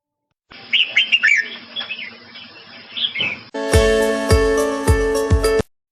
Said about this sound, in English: Red-vented bulbul.